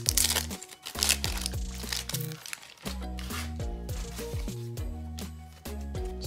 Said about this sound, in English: I'm gonna start off with this pack of 1991 Donruss Baseball, Series 1. And it's just one to rip off in small pieces